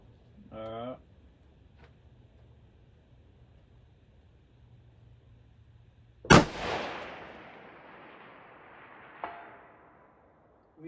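A single loud crack from an AR-10 .308 rifle shooting a steel target at 1,000 yards rolls out in a long echo. A faint, sharp impact follows about three seconds later, after a brief voice and quiet outdoor background.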